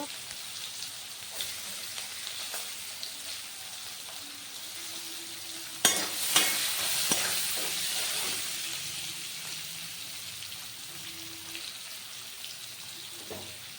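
Onions frying in a pan of oil for stuffed pointed gourd (potol dolma), giving a steady soft sizzle throughout with a few louder stirring clatters around the middle, heard close with no voice.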